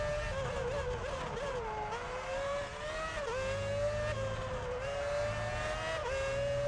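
Formula 1 race car engines in the F1 Championship Edition video game at the San Marino Grand Prix, a loud, high whining engine note that rises and dips with gear changes, joined by other cars rumbling nearby.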